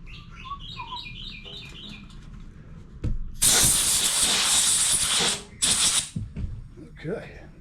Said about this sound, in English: Let me take a little bit of carburetor cleaner.